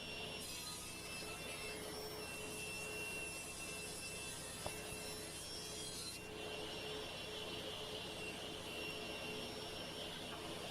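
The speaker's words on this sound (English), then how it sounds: "this is the planer portion of the joiner planer. And now I'm just squaring up the other edge" A jointer planer squares up the edge of a board for a floor-standing cabinet humidor, giving a steady, loud machine whine and rushing cut that holds level throughout, with a brief knock partway through.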